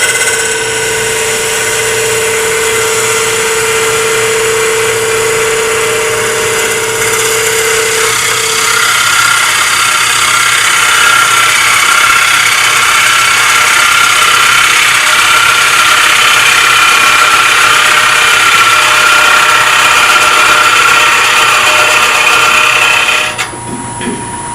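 Wood lathe spinning a segmented bowl while a bowl gouge cuts it, a loud continuous motor hum with a steady hissing scrape from the cutting, running unbroken for the whole stretch before dropping off at the end.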